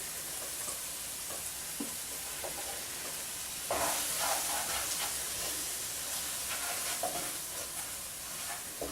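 Blended ingredients hit a hot pot of katahar curry with a loud, steady sizzle and hiss that swells sharply midway and keeps crackling near and alone.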